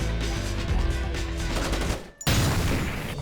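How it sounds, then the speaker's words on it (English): Mercenaries firing guns in Splinter Cell, a dense rattle of rapid automatic gunfire that cuts out abruptly, then a fresh burst of shots after a brief pause. "they're about to shoot!"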